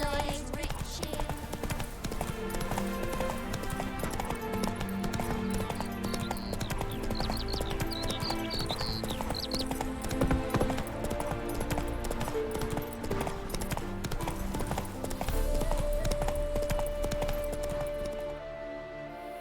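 A horse's hooves clip-clop in a steady rhythm as it is ridden in The Witcher 3, mixed under game music and talking voices, with a short whinny partway through.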